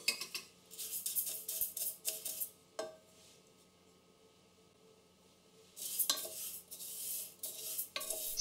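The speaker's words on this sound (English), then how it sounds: "Stir constantly so that the beans roast uniformly." A spoon scrapes and stirs mung beans roasting in a pot in steady close strokes, pausing briefly before resuming, with a faint sizzle beneath.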